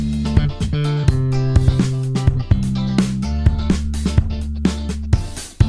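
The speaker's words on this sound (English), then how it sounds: "Next, I added a bass." A UJAM Slap virtual slap bass plays a punchy, dry groove inside a busy loop with drums and chords, with sharp rhythmic attacks throughout. No voices.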